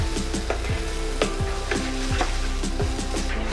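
Onion browning in a kadhai for kadhai paneer, a steady loud sizzle with regular scraping strokes of a spatula repeating every half second or so, close and without talk.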